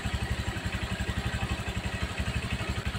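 A fuel-injected motorcycle engine idles around 1500 rpm, a close, steady rhythmic putter with even pulses and no talk.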